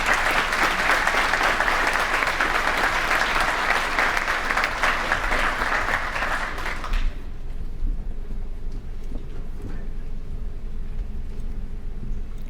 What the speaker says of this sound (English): If you can give them one last round of applause, I'd appreciate it.